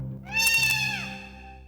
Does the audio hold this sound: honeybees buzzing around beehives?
no